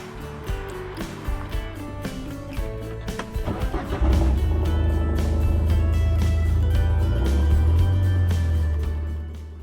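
An off-road vehicle rumbles along a desert trail around Quartzsite, with bumps and rattles at first, then a loud steady engine drone building as it picks up speed, heard close up.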